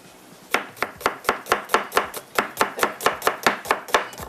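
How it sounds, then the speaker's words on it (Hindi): A knife chops an onion into small pieces on a cutting board, seventeen crisp, evenly spaced strikes at a brisk steady rhythm, close and clear with no talking. "प्याज बस ज़्यादा बड़ी नहीं, थोड़ी छोटी सी चाहिए। इसको हम करते हैं कटिंग, थोड़ी सी चॉप कर लेते हैं"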